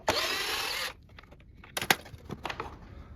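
A power tool whirs briefly up close while undoing the 8mm bolts on a Kawasaki KLX 140 air filter cover, a single burst of about a second, followed by scattered clicks and metallic handling sounds.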